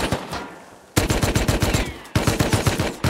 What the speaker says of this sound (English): That's what all that shooting was.